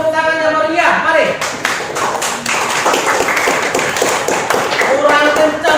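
Classroom audience clapping for the final group, a dense burst of hand claps and tapping lasting several seconds, with a voice speaking over the start and end.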